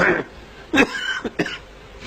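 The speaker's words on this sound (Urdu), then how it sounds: "ابھی تو کھانسی آئی ہے" Several harsh coughs from a man, one burst at the start and a cluster of three close together in the middle, close and fairly loud, with quiet room noise between them.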